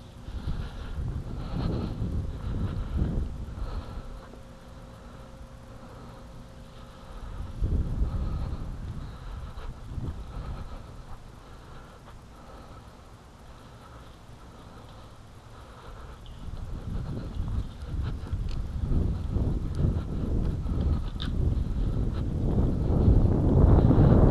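Wind blows steadily outdoors, a low rumbling buffet against the microphone that swells and eases, strongest near the start and building loud again toward the end, with no voices.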